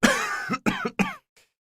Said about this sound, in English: It's better, but now I've got this cough.